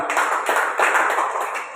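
A crowd breaks into loud, dense applause for Baba Ramdev at an event, a continuous burst of many hands clapping that tapers slightly at the end.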